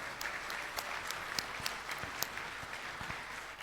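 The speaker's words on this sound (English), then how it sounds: "Let's give him a round of applause." An audience at the 2018 Perodua Myvi car reveal gives a round of applause. The clapping is soft and distant and continues steadily, with a few sharper claps standing out.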